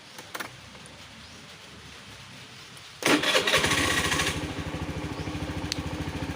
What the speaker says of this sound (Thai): เดี๋ยวเรามาสตาร์ทรถแล้วก็ลองไปกันดูนะครับ